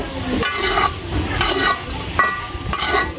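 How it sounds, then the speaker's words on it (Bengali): Onion and green chili stirred and frying in a pan, with a steady sizzle broken by several scraping stirs of a spatula against the metal and a few light clinks. "তো পেঁয়াজ আর কাঁচামরিচ দিয়ে ভালো করে নাড়াচাড়া করে ভাজন রাখবো।"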